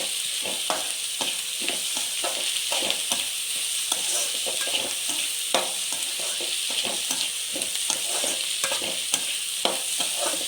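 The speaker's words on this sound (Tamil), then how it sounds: "அதை கொஞ்சம் ஒரு 2 மினிட்ஸ் நல்லா வதக்கிட்டு தக்காளி ஆட் பண்ண போகிறேன்" Carrots and beans sautéing in a pan for pasta: a continuous loud hissing sizzle broken by rapid, regular spatula scrapes and taps throughout, close up, with no talk.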